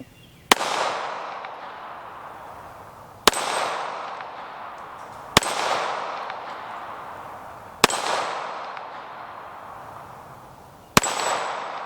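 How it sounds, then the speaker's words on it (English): Shots from a Sig Emperor Scorpion 1911 pistol, a Carry Fastback model, fired one at a time: five sharp, loud reports spaced a few seconds apart, each with a long echoing decay and no talking. "let me just go ahead and load up this magazine and shoot again"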